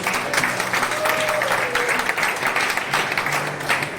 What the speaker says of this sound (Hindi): एक बार मिस्टर बालकृष्ण जी के लिए जोरदार तालियां